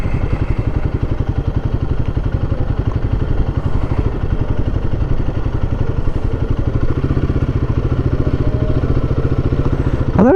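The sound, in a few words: motorcycles passing at night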